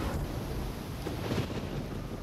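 Thunderstorm ambience in the Risen video game, a steady broadband rumble of rain and wind with a brief louder swell of thunder midway, heard on its own without talk.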